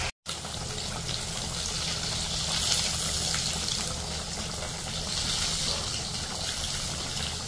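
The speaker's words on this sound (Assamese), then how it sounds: "চাওক সুন্দৰ উতল আহি গৈছে।" A pot of spiced meat curry comes to a boil, giving a steady close bubbling and hissing wash of noise that continues evenly after a brief cut at the start.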